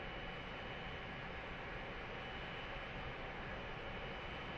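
Steady broadband engine roar of a Boeing 787-9 Dreamliner with GEnx engines pushing back at Manila in X-Plane 11, a constant, even drone with no talk over it.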